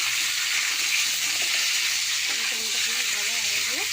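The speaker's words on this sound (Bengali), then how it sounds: "আলু টমেটো পেঁয়াজ আমি একসঙ্গে ভেজে নেব।" Potato, tomato and onion fry together in oil, giving a steady broadband sizzle throughout while a voice speaks faintly underneath toward the end.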